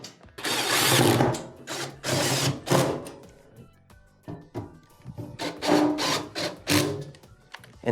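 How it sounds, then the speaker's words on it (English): Power screwdriver bursts drive screws into the side and bottom panel of a Frigidaire washer during a repair, several loud, close whirring runs with short pauses between them. "we can go ahead and reattach the 4 side screws and then tighten the bottom screw."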